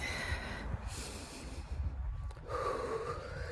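Slow, deep breaths during walking meditation: a soft inhale and exhale at the start and another long breath near the end, close to the microphone but quiet, with airy hissing texture.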